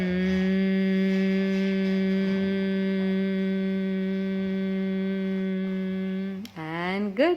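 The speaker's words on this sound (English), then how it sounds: "And now we will do the humming sound." Children hum together in one long, steady, sustained tone during Bhramari yoga breathing, fairly loud and near, ending with a brief rising vocal slide.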